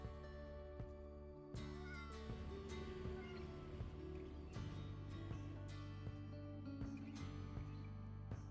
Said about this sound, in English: we're listening for a meow